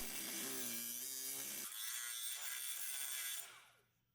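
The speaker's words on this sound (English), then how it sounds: "Using a cutoff wheel, cut the outer shell encasing the bearing." An abrasive cutoff wheel grinds through the steel outer shell encasing a driveshaft carrier bearing from a Mercedes R230 SL55, a loud, steady, high-pitched grinding that shifts tone partway through, then fades as the cut ends.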